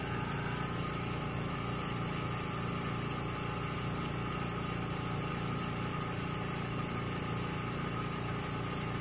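Laurell WS 400B spin coater spinning up at 2000 rpm, a steady faint motor hum with a constant high-pitched whine, even and unbroken throughout.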